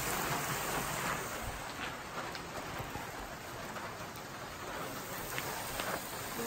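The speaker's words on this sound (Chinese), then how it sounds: "下雨了。" Steady, dense rain falls at a lakeside campsite at Lake Eildon on an autumn day, a continuous close hiss of drops with no break across the whole stretch.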